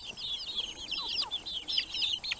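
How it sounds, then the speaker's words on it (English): Chickens cluck and peep in a busy, continuous chatter of short high calls close by, with nobody talking. "Look, the hens are as big as my little rooster now."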